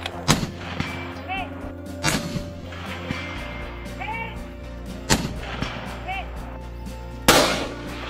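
Loud gunfire on a shooting stage at the SIG Hunter Games: sharp, booming shots fired in an irregular sequence, spaced a second or two apart, with faint voices in the background.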